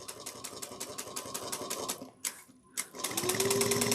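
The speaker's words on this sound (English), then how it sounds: "So we're top stitching this at 1/8 of an inch." Sewing machine top stitching a bag body at an eighth-inch seam, a fast steady mechanical chatter that pauses briefly twice mid-way before resuming, close and alone.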